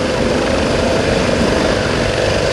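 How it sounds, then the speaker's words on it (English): A Coast Guard search and rescue helicopter hovering during a demonstration, a loud, continuous rotor and engine roar that holds steady throughout with no pauses. "the helicopters move back to bring the swimmer and survivor back in view of the pilot"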